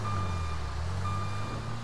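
In a truck-driving video game, a truck's reversing alarm beeps steadily and evenly over a low, constant engine hum, with no voices.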